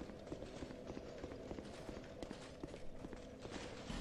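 Horse hooves clip-clop at a steady trot through the Dark Souls II game world, a continuous run of moderately loud, evenly spaced thuds with no one speaking over them.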